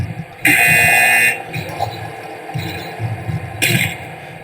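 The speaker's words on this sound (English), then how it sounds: "Another buzzer" A loud, steady buzzer blares for nearly a second at a live rumble event, then sounds again briefly near the end, with crowd noise and commentary running beneath.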